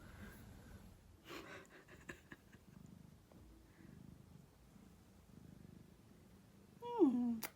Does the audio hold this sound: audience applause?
no